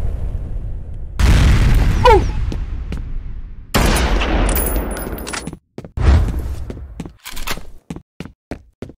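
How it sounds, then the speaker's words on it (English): Grenade blasts in the multiplayer shooter F.E.A.R. Combat: a heavy boom, then a second loud burst several seconds later. Short sharp cracks and gunfire pops follow in an uneven run toward the end, all close and loud. "Grenade out!"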